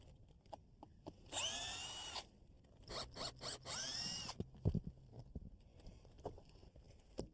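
Roofing membrane being cut around a skylight during a roof skylight replacement, heard as two close, loud rasping bursts of about a second each, with lighter handling knocks and scrapes between them.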